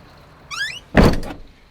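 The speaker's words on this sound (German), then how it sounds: "Erstens mal hast du gehört, wenn ich die Tür schließe" Door of a 2020 Bela P69 semi-integrated motorhome swinging shut: a brief creaky slide, then one solid, close thunk with a short rattle as it latches.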